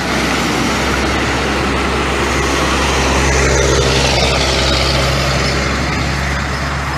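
Trucks passing on a Brazilian highway, one loaded with sugarcane, a continuous loud engine and tire roar that swells slightly as a truck goes by close to the roadside, with no talking.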